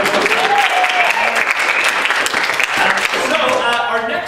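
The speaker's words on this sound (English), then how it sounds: "Let's give it a round of applause." An audience at an improv comedy show breaks into sustained, loud applause and cheering, with a few voices calling out over the clapping.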